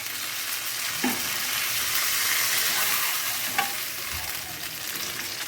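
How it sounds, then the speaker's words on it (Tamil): Tandoori chicken sizzles steadily in a pan on a stovetop, a continuous bright frying hiss with a few soft clicks as pieces are stirred and turned. "கொஞ்ச நேரத்தில் சிக்கன் வெந்துடும்."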